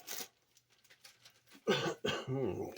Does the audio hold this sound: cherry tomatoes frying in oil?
no